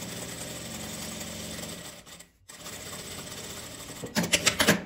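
A domestic sewing machine stitches a final seam on a garment, a continuous close whirring run that pauses briefly, resumes, then ends in a few louder clacking bursts.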